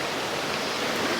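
Rushing water deep in a Mexican jungle, a loud, steady broadband roar like a stream or waterfall filling the whole moment with no break or voice.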